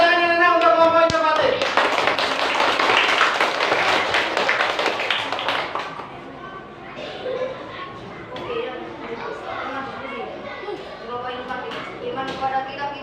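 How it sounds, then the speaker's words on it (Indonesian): Children in a classroom clap for a group of classmates, a burst of brisk, dense applause that fades after a few seconds, followed by scattered taps under talking. "Beri tepuk tangan anak-anak untuk kelompok inovatif"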